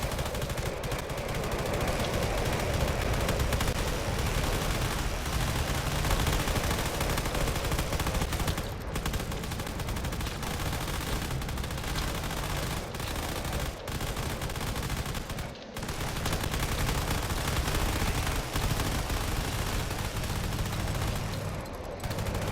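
Rapid machine-gun fire rattles almost without pause as fighters attack a battleship in the video game Drone Wars, a dense, steady barrage with brief dips and no voices.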